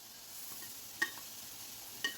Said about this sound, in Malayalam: ആ സമയത്ത് നമുക്ക് തേങ്ങ ഇട്ട് കൊടുക്കാം.